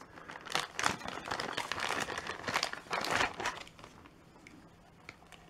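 Plastic wrapping crinkles and rustles as a package of wire-edged ribbon is opened, irregular close bursts of crackling that fade out toward the end.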